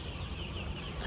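Chickens on a layer farm clucking steadily and close by, with dense overlapping calls filling the whole moment.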